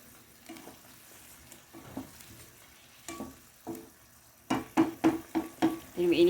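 Chicken afritada with oyster sauce being stirred in a frying pan: a soft steady sizzle broken by a run of sharp utensil scrapes and clatters that grow louder and quicker toward the end.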